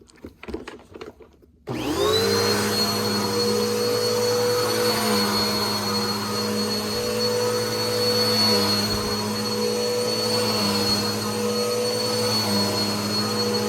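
A Bissell vacuum cleaner switches on after a brief shuffle and runs loudly and steadily at close range with a constant motor whine and hum.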